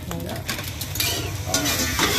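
Rice flour cake (bột chiên) fries on a street food cart in District 5, giving a steady, dense sizzle with stirring and scraping of a spatula against the pan, loud and continuous throughout.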